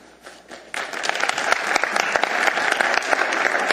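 Audience applause at an Anchorage assembly meeting: a few scattered claps at first, then a sudden swell into steady, loud clapping from a crowded room that carries on to the end.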